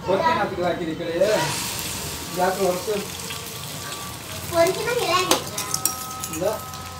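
Beaten egg meets a hot oiled dosa pan with a sizzle and some pan and utensil clatter, heard under someone talking in Tamil in a home kitchen.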